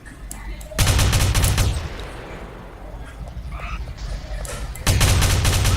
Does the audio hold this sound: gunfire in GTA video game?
yes